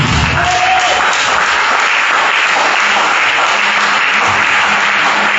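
A church congregation acclaiming Jesus Christ with loud, sustained applause and cheering that fills the space evenly from start to end, with a voice briefly rising over the crowd early on.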